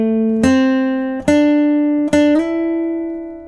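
A guitar plays the lead phrase of the Westworld theme: single plucked notes ring out, then a note slides up to a higher sustained pitch, close and clear with no talking.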